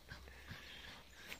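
An energetic dog plays outdoors, giving soft whimpers, yips and panting breaths, faint and close, over a quiet background with no talking.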